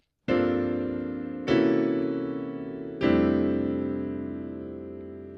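Three rich, sustained jazz piano chords with extended voicings, each struck firmly and left to ring and decay, spaced about a second and a half apart.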